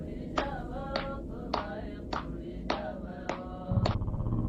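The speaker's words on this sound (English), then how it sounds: "4 women sat on the floor, each clapping their hands and singing a traditional Kohistani song." Hand claps from four women seated on the floor singing a traditional Kohistani song, caught on a grainy phone recording: seven sharp, evenly spaced claps over a murky, muffled background hum.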